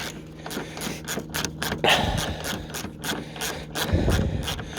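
A socket ratchet clicks rapidly and repeatedly while undoing bolts on a Mazda 2 bumper, a close, bright mechanical ratcheting in quick bursts with brief metallic scrapes and no talking.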